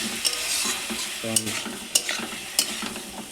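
Food frying in a kadai while a utensil stirs it, soft sizzling beneath several sharp scraping clinks spaced about half a second apart.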